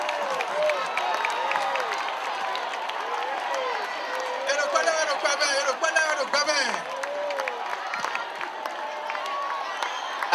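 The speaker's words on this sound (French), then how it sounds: "On applaudit très très fort." An outdoor crowd at a performance event in Benin cheers and shouts continuously, with overlapping excited voices and whoops in a lively, sustained roar.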